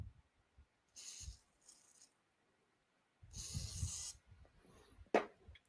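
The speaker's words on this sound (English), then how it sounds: "We'll try the WD-40. We'll see the difference. So WD-40 on maybe this half." WD-40 is sprayed from an aerosol can onto a metal woodturning chuck in a workshop, several short hissing bursts separated by quiet pauses, the longest near the middle, with faint handling clicks between.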